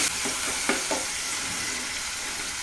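Shallots and green chillies sauté in a pan for an okra pachadi, giving a steady broadband sizzle with a few soft scrapes of stirring early on, close and fairly loud with no voices.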